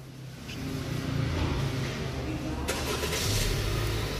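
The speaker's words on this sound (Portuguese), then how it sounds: "Então, ele vai dar partida agora no carro." A 2017 Honda HR-V EXL starts up nearby: the engine cranks and catches with a brief burst of noise, then settles into a steady low idle rumble that carries on to the end.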